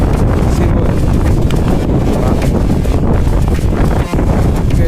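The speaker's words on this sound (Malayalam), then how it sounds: "കാറ്റ് പിടിക്കുന്നുണ്ട്." Steady, loud wind buffeting the microphone at sea in the rain, a constant low roar with no voices, like open-air gusts near the water.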